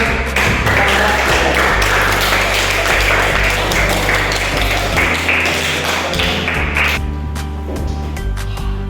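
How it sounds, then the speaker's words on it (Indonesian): Students applaud in an Islamic school Qur'an and Hadith lesson after a group presentation, dense continuous clapping heard over a humming, droning background that thins out toward the end. "terima kasih tepuk tangan"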